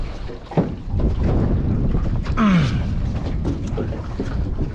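Wind blowing over open water and buffeting the microphone while fishing set lines are checked from a boat, a loud continuous rumble with a few brief creaks and splashes.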